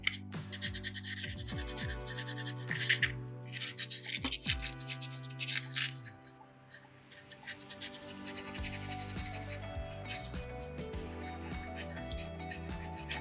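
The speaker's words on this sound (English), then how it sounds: "to do a good job sanding." Soapstone being sanded by hand with sandpaper during carving, a close, continuous rubbing and rasping with uneven back-and-forth strokes that swell and fade over several seconds, heard alone without talk.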